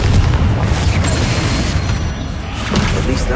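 Confringo spell blast in Hogwarts Legacy, a loud booming explosion with rumbling crash and debris, filling the whole moment with dense roaring noise and no talk.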